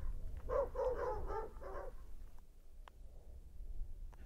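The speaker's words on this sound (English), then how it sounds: "other dogs began to bark." Far-off dogs in rural Canadian countryside bark in a quick cluster of four or five muffled yelps, then fall away to faint outdoor background noise.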